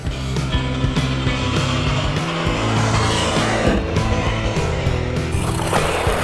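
A Wltoys XKS 104001 1/10 scale RC buggy drives and turns hard, its electric motor whining loudly and steadily while the tires skid and scrub through tight turns, close and continuous with no talking.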